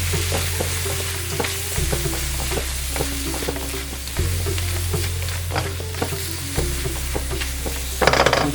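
Spiced tomato and onion masala sizzles steadily in a kadai with turmeric, coriander powder, Kashmiri red chilli and cumin, while a spoon scrapes and stirs in a repeated rhythm, close and alone with a low constant stove hum beneath.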